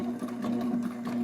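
A Sailrite LSZ-1 heavy-duty sewing machine stitches through leather and plastic, its needle hammering in a quick, steady mechanical rhythm over a constant motor hum, close and alone.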